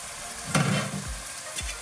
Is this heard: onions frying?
yes